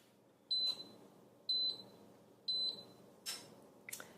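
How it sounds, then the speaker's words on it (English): The cooking timer on a stainless steel Cuisinart GR-300WS Griddler Elite beeps: three crisp, high double chirps spaced one second apart, followed by clattering kitchen noises, fairly faint and without speech. "So there we have it, our timer."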